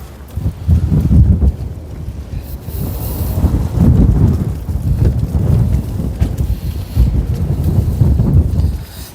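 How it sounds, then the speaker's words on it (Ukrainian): Powerful gusts buffet the microphone in surging waves, loud low rumbles swelling and easing about every few seconds, with no one speaking. "Дуже сильний вітер."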